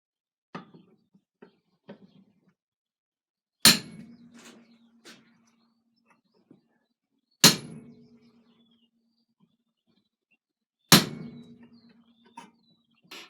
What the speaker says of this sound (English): Basically, I'm going to hammer this down and then reface the underside of the guard.